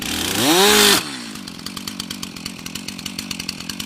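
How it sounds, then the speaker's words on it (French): A chainsaw revs loudly with a rising whine, then cuts off abruptly as the chain brake engages, leaving a steady rapid idle-like clatter of the stopped chain and engine. "Ça va caler la tronçonneuse"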